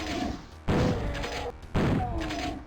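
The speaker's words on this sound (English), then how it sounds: "there's a shotgun from the dead shotgunner which we can use against these imps, which I'm gonna do right now" Two loud, booming shotgun blasts ring out about a second apart in Doom II as imps are fired on, each followed by a short decaying tail over steady game background noise.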